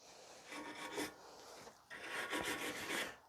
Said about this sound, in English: you may need to use something to sand down the contact points